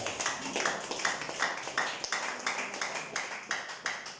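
Congregation clapping in a steady rhythm during a Yoruba church service, many hands striking together in repeated bursts about twice per second, close and fairly loud with no talk over it.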